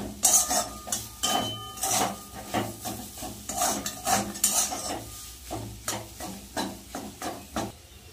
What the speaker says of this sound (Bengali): এবার ভালো করে টালবো।